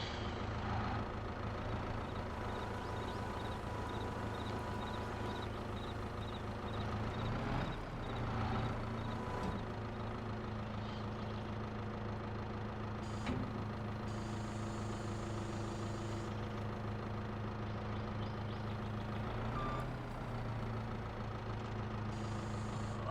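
A truck in Farming Simulator 22, hauling logs on a forestry map, holds a steady low engine drone near idle throughout. Faint higher hisses and clunks rise and fade, with brief changes in engine tone as it creeps and shifts.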